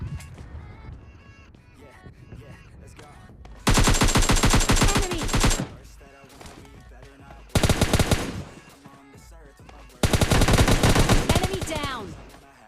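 S12K shotgun blasts in PUBG Lite gameplay come in three loud, dense bursts of rapid gunfire with quieter game ambience in between.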